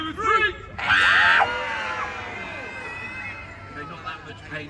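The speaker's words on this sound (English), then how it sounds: "Let me hear a big loud scream from you all." Spectators at a Warwick Castle trebuchet show let out a loud, sustained group scream for about a second after a short count-in, then chatter and murmuring trail off beneath a presenter's voice.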